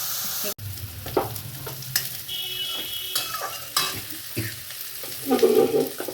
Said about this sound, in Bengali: বেগুনটা ভালো করে ভাজা হবে লাল লাল করে